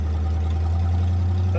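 An old car engine with a suspected carburetor fault gives a low, steady droning hum while a voice talks over it. No clear stumble stands out in the short burst.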